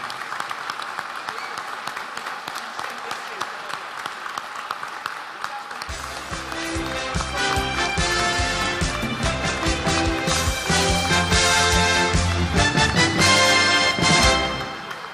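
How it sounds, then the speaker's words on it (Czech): A large crowd applauds loudly and steadily; partway through, music starts and plays over the continuing clapping. "A teď bych prosil, abyste předvedli ten největší potlesk"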